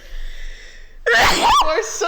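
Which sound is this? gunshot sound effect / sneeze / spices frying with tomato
sneeze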